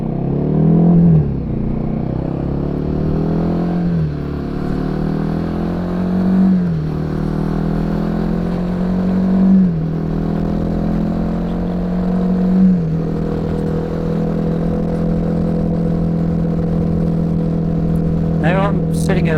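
A Royal Enfield Himalayan 450 motorcycle cruises at highway speed, around 100 km/h, its single-cylinder engine droning steadily with several rising gear pulls and strong wind roar, all beneath continuous close talk from the rider.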